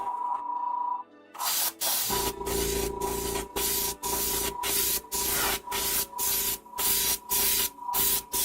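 Spray paint goes onto a tiny tavern model in short, regular hissing bursts from the can, each lasting about half a second with brief pauses between them. The bursts are close and fairly loud.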